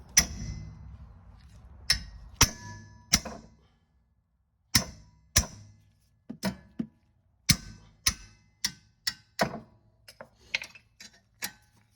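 Sharp metallic taps ring out one after another, irregular and close, a hammer striking the rear brake rotor of a 2015 Honda CR-V with short pauses between bursts of blows.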